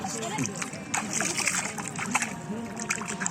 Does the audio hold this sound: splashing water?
yes